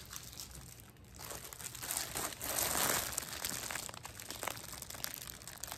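Paper crumpled and handled at a crafting table with silicone molds, a steady close crinkling rustle that swells to a louder burst midway before settling back into softer rustles.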